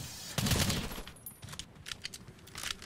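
Long-range weapon fire from the co-op shooter game Earthfall, a quiet burst of rapid shots followed by scattered intermittent pops at moderate distance.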